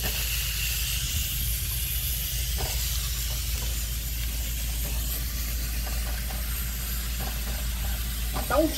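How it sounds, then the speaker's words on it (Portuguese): Garlic frying in hot oil for a feijoada, a steady broad hiss of sizzling that holds evenly throughout with a slight rise at the very end, no talk over it. "Deixar fritar bem aqui o alho."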